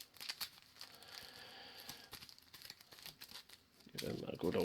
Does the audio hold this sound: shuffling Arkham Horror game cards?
yes